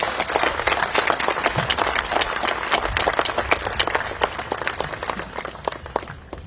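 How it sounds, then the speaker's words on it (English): An audience at a memorial event gives sustained, dense applause, many hands clapping at once without a break and slowly tapering toward the end. "Let's give her another round of applause."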